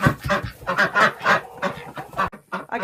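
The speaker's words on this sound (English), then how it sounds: "5 wet ducks and a Drake." Several wet ducks and a drake honk and quack loudly and close, a busy overlapping chorus of calls with a brief pause near the end.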